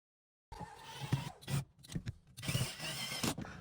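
A power drill drives screws into the cover of a leaking Samsung refrigerator freezer, heard as short, close whirring bursts of the motor separated by brief pauses.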